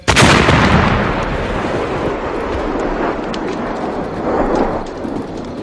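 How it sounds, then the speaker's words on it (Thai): Explosion effect in a narrated Vietnam War story, a heavy boom at the start that rolls into a long, rumbling roar like distant thunder, with a second swell near the end, no voices. "เสียงระเบิดกัปนาตขึ้นมาพร้อมๆกับเศษชิ้นส่วนของมนุษย์ปลิวว่อนขึ้นสู่ท้องฟ้า"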